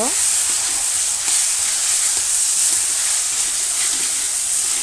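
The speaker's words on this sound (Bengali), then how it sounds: "হলুদ দেওয়ার পর তারপর আমি ভালোভাবে নাড়িয়ে নেব" Vegetables with turmeric stirred and frying in a pan, giving a steady, loud, close sizzle with occasional scraping stir sounds throughout.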